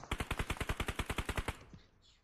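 Rapid automatic gunfire from a video game, about fourteen evenly spaced shots in a quick burst of roughly a second and a half, loud and close, then cutting off into a faint tail.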